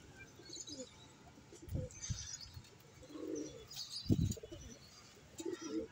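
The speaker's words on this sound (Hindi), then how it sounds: "कबूतर खोल लिया आज हमने" Pigeons, including white birds, coo in low bursts with scattered chirps, moderately faint and close, over a quiet background with occasional rustling.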